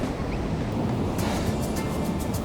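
Ocean surf rolls continuously onto a beach in Newcastle, a loud, steady wash of breaking waves with some wind rumble on the microphone and no voices.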